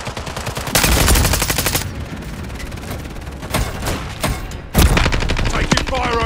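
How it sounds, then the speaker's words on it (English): Call of Duty gunfire rattles in loud automatic bursts and sharp single shots, close and heavy, with a few quieter gaps between volleys and no talk over it. "Taking fire over here."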